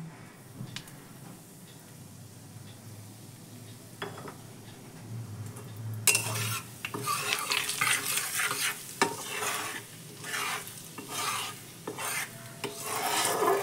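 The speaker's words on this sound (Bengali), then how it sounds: "এই মশলাগুলো একটু শুকনো তেলের উপরে ভাজতে হবে" Cumin, coriander and other spices dry-frying in a little oil for a pabda fish curry, quiet scraping at first, then a louder crackling sizzle with rhythmic scrapes and clinks of stirring against the pan.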